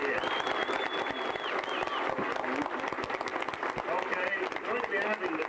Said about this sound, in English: Let's give all the girls a big round of applause again